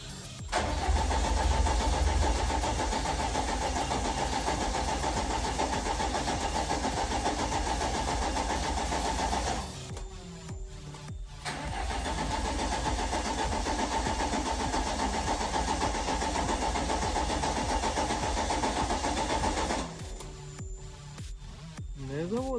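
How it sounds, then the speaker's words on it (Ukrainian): A VAZ 21099 that has sat unused for a year is cranked with the ignition, the starter whirring steadily for about ten seconds, pausing briefly, then cranking again for another long stretch without the engine catching. "Щеплення, включаю запалювання."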